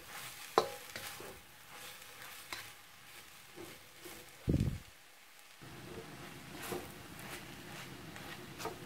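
Vegan dried shrimp floss is stirred in a pan over low heat, with quiet scraping and soft rustling strokes, a faint low sizzle underneath, and a brief louder clunk near the middle.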